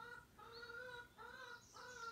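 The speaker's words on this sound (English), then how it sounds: "You can hear my chickens in the background. They're always complaining." A few faint, distant chicken calls come in short drawn-out bursts, a hen's complaining clucks repeating in quiet background.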